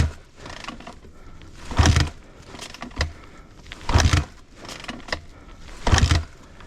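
A flooded 2006 Honda CRF250 dirt bike engine is cranked in three separate bursts of churning turnover that do not catch, with quieter gaps between them.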